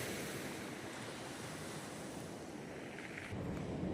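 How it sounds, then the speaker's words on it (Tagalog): Surf pounding the shoreline in Luna, La Union, a steady rushing roar of waves with wind noise, fairly faint and without talk. "Dinig nyo naman siguro yung tunog ng alon."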